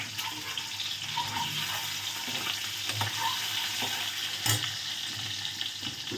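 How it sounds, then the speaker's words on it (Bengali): An egg frying in white oil in a kadai at home: a steady, fairly quiet sizzle and crackle runs throughout, with a few soft clinks and pops on top. "কড়াটা আমি জ্বালিয়েছি ডিমটাকে আগে একটু ভাজি ভালো করে"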